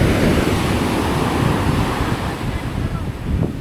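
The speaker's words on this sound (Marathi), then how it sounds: "लाटा खूप जोराच्या आहेत त्या त्या बघ केवढं जोरात मारतात" Strong ocean surf at Khavane Beach crashes continuously and loudly, a dense roar of breaking waves mixed with wind buffeting the microphone.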